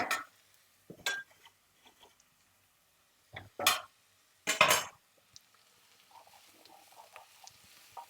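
Garlic being stirred into shakshuka in a pan, scattered metallic clinks and scrapes of a spoon against the pan arriving in short bursts with quiet gaps between, close and unaccompanied by talk.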